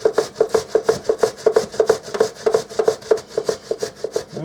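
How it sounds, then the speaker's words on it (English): Potatoes are rubbed down a box grater in quick, even rasping strokes, about four a second, loud and close with no talking. "Just grate them like so."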